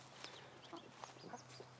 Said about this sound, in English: Move the chickens out of the way here.